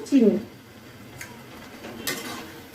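A spoon stirs ridge gourd curry in a pan after sugar is added, giving soft scraping and light clinks of utensil against metal, fairly quiet with a brief louder scrape at the start.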